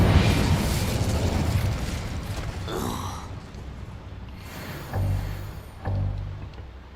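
Incendio fire spell cast in the Hogwarts Legacy video game, heard as a whooshing burst of flame followed by two short, punchy pops or bursts, fairly loud against a busy background.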